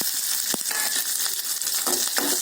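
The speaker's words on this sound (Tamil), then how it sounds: "இந்த பச்சை மிளகாய் கொஞ்சம் நல்லா வதங்கிட்டோம்" Green chillies fry in oil, sizzling and crackling steadily in a pan, with a few soft stirring knocks.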